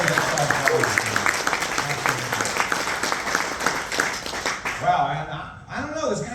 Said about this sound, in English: Let's give him a round of